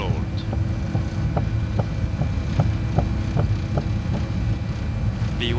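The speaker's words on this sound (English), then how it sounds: "N1, Toga. Takeoff thrust set." Jet airliner engines spool at takeoff thrust in Microsoft Flight Simulator, a steady broad roar with faint rhythmic ticks running through it, loud and continuous under a cockpit voice calling out the takeoff.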